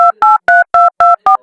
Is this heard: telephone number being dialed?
yes